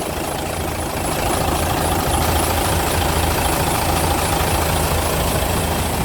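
A turbocharged truck with two large 300-liter fuel tanks idles nearby, a loud, steady low rumble that holds evenly throughout with no talk.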